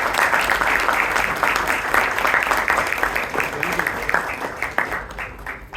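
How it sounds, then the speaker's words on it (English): A roomful of people clapping at a Bangalore Toastmasters club meeting, steady and close at first, then thinning out and fading toward the end, with some talk mixed in. "Give a huge round of applause to Toastmaster."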